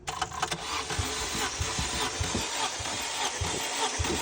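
Engine of a Daewoo Lanos 1.5 cranking on the starter during a compression test, a close, steady, rhythmic churning pulse with a buzzing electrical whine above it and no talk.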